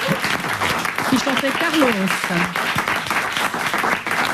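A studio audience claps steadily through a French comedy talk show while someone talks loudly over the applause.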